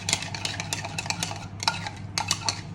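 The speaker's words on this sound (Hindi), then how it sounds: "इसी स्पून से हमने 3 टेबलस्पून इसमें डालनी है दूध की और इसको अच्छे से मिक्स करना है" A spoon stirs milk into a mixture in a bowl with quick, rhythmic scraping clinks close by, pausing for a moment before picking up again, with no talking.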